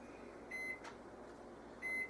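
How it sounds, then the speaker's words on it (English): Microwave oven heating frozen pita bread in a home kitchen: a steady, low electrical hum runs throughout, with two short, bright beeps about a second apart. "I had these in the freezer, so I got to put it in the microwave a little bit"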